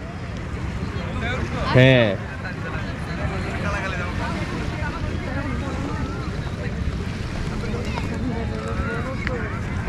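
A boat rides waves on the Padma river at Rajbari under steady wind rush and water wash, with a brief loud burst of voice near the start and people talking faintly around it.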